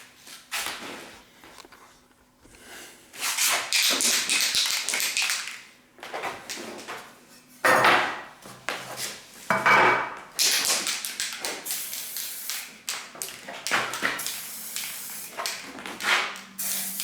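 Spray can being shaken and sprayed while refinishing the case of a Midland 3001 radio in its original colour, with bursts of hissing spray and rattling taps coming in uneven spurts, close and fairly loud, with no talk.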